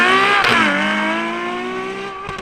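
Ferrari 812 Superfast V12 accelerating, a loud, close, high-pitched rich engine wail that dips briefly then climbs steadily in pitch over a couple of seconds.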